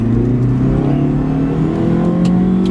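A 2009 Chrysler PT Cruiser wagon's engine drones loudly as it accelerates, a steady buzzy hum that rises gradually in pitch from inside the cabin.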